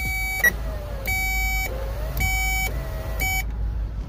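A car's power window switch sends repeated electronic beeps in steady, evenly spaced bursts, each with a faint motor whine beneath, over a low idling hum, close by with no talking.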